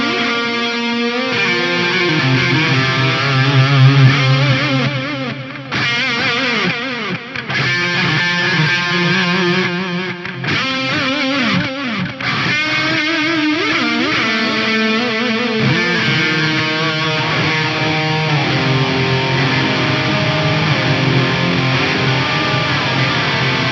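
An electric guitar plays a distorted lead through a reverb block with pre-delay echo. The long, sustained phrases have bends and a trailing repeat, and no one talks over them.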